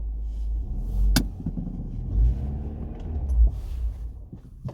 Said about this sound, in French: j'ai encore calé